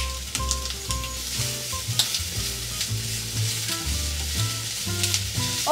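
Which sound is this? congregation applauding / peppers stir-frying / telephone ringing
peppers stir-frying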